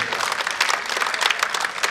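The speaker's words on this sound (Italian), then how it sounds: "facciamo l'applauso" Brief burst of audience applause at an outdoor band concert, many hands clapping in a dense, moderately loud wash with a slightly uneven pulse.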